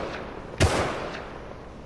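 A single sharp gunshot in the survival video game Rust, a loud close crack with a short decaying tail over a steady low background.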